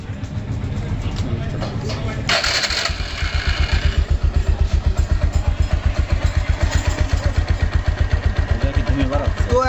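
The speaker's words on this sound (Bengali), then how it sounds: "এবার আমরা বাইকটিকে স্টার্ট দেব।" A Bajaj Discover 135/125 DTS-i motorcycle engine starts and settles into a steady, close idle with a rapid, even exhaust pulse, while a person talks over the start.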